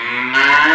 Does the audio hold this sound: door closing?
no